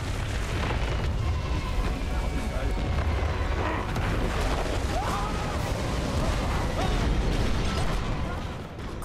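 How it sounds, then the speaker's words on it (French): Huge cannons fire in the World War I video game Soldats Inconnus, a dense rumbling barrage of booms under a constant roar, with faint background sounds. "Encore ces énormes canons."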